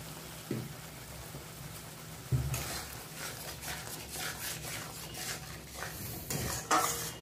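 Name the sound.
spice paste being stir-fried in oil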